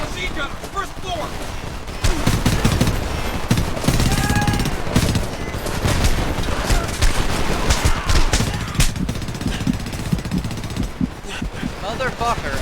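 Dense machine gun fire rattles through a Homefront combat scene, with sustained bursts and overlapping shots that grow louder and fuller after the first couple of seconds, while voices call out amid the shooting.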